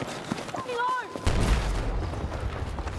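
A frag grenade bursts in a shooting video game, a deep rumbling boom that lingers for about two seconds after a brief stretch of talk and a tonal game sound.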